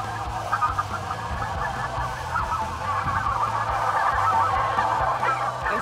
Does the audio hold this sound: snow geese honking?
yes